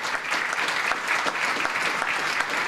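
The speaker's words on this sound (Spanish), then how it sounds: "Por eso un fuerte aplauso para todos los organizadores del Movimiento Z de la República" Audience applause for event organizers at the opening of a ZDay 2019 event in Argentina, a dense and even spread of clapping that carries on steadily at a moderate distance.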